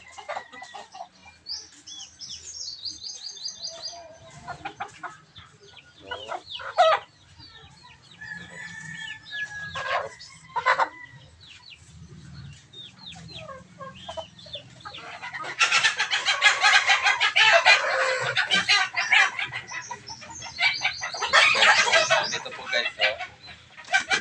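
Agitated fighting rooster clucks and squawks, close and loud, newly tied to a tether, rising into a burst of frantic crowing and cackling toward the end.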